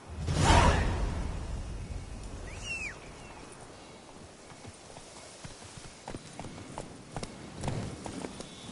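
Roach the horse galloping in The Witcher video game, a steady rapid clip-clop of hooves under a swooshing rush of movement that starts loud, then settles into rhythmic hoofbeats.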